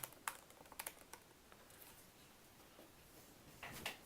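Keys clatter on a computer keyboard in a few quick bursts of close taps, with a brief pause in the middle and a final flurry.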